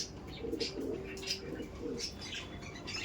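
Giribaj pigeons coo in repeated low, throaty phrases at a modest distance, with light rustling and faint chirps between the calls.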